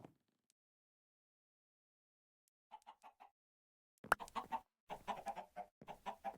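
Minecraft chickens give a short run of soft, rhythmic clucks, then a louder, denser stretch of clucking after a brief silence, with no talking.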